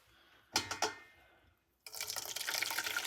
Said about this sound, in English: our mixture into the cheesecloth and the colander